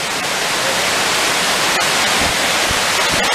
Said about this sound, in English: Munduk waterfall.